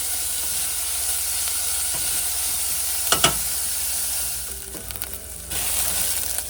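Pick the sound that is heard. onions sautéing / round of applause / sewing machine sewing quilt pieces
onions sautéing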